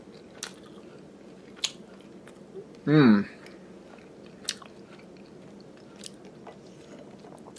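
Someone chews a Proto Diet bar close to the mic: sparse soft crunches and clicks, with a short voiced hum partway through and no spoken words.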